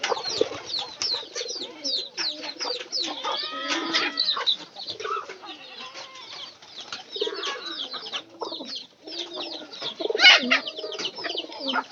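Pigeons coo continuously around a coop with nine young chicks, with wing flaps and overlapping bird calls close by, busy and fairly loud throughout.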